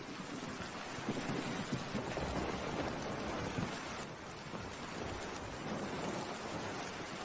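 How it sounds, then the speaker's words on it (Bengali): Heavy rain pours continuously in an animated Bengali folk-tale cartoon, a loud, even hiss with low rumbling underneath that suggests thunder, and no voices. "বৃষ্টির জল যেন বেড়েই চলেছে চারদিকে জল চকচক করছে"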